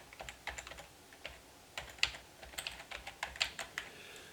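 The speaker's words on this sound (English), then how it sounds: "type it in." Keys on a computer keyboard are tapped in short, irregular bursts of crisp clicks, close and fairly quiet, with brief pauses between groups of keystrokes.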